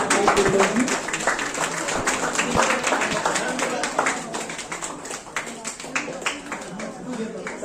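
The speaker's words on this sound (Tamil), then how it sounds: "எல்லாருமே மறுபடியும் ஒரு மிகப்பெரிய கைத்தட்டல்." Audience applause at a Chennai cooking contest, a dense crackle of many hands clapping that holds steady for several seconds with a voice speaking over it.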